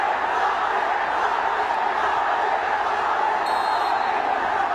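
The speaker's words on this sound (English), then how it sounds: "Mandeep getting the cheer of the crowd" A field hockey crowd at a Hockey India League match between Ranchi Rhinos and Delhi Waveriders roars steadily for a home goal, a dense, sustained cheer that holds at an even level without breaks.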